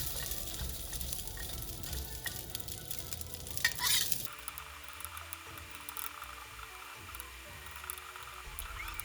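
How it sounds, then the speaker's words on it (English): Bacon sizzles in hot oil in a wok for turnip cake, a steady crackling hiss with stirring scrapes that drops to a softer, sparser sizzle partway through. "When you see the oil sizzling,"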